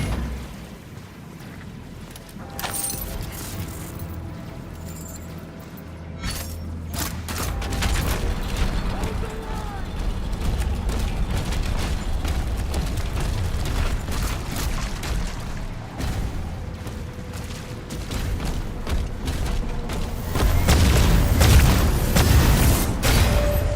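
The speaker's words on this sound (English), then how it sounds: "Man, these cannons are kind of annoying." Cannons firing in the video game Doom: The Dark Ages, heard as repeated heavy booms and mechanical clanks over a dense, loud battle din, with the onslaught growing heavier toward the end.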